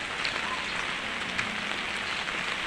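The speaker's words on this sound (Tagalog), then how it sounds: "Hinay na, oh. Hinay ng ulan." Steady, dense rain pours onto surfaces outdoors, a continuous broadband hiss with no gaps, close and fairly loud throughout.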